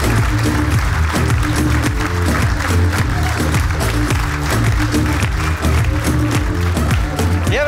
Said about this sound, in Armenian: Եկեք մի հատ էլ բարձր ծափարենք տղաներին